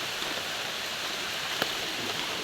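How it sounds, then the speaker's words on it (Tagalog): Heavy rain pours steadily beside a river, a dense continuous hiss with no breaks, close and fairly loud. "malakas po ang ulan"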